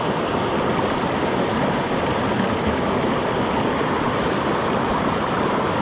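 A cold, fast-flowing mountain creek in Arizona rushes steadily and loudly nearby, a dense unbroken wash of churning water with no voices.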